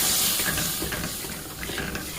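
Water hits hot oil and spiced curry in a pan for a pabda fish stew with cauliflower, eggplant and potato, giving a loud, steady hiss and sizzle that eases slightly as it continues, with no talking.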